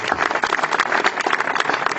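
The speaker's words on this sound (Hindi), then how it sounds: "हमारे रिंकू मैडम जी, मनोरमा मैडम जी के लिए जोरदार ताली होना चाहिए" An audience at a speech event claps for guest teachers, a steady, dense wash of applause from many hands lasting the whole stretch at moderate loudness, with no voices over it.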